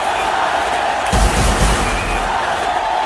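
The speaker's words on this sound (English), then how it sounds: "You can hear the crowd screaming for their favourite, the little master." A large cricket stadium crowd roars and cheers for a favourite batsman, a loud, dense wall of voices with a sharper surge of screaming in the middle.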